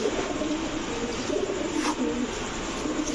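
Male pigeons kept for sale, among them Giribaz, colouring and racer breeds, cooing softly over a steady noisy background hum, close by, with no voices.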